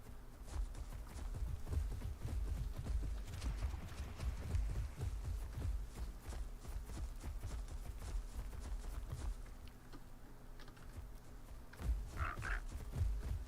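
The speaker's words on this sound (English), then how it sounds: "And there's frogs, too." Frogs croak briefly near the end, set against a busy backdrop of dinosaur footsteps and clopping ambience inside the video game Path of Titans.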